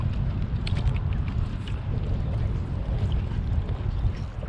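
Wind rushes steadily over open water around a drifting kayak on a bay, a loud, constant low roar of buffeting noise with faint splashes on top.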